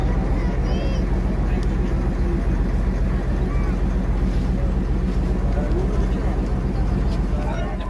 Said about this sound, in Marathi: बोट पूर्ण भरलेली आहे आमची आणि छोटासाच प्रवास आहे